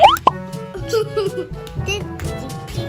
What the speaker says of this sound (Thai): เพื่อเพิ่มความเย็นเข้าไปอีก ก็ใส่น้ำแข็งลงไป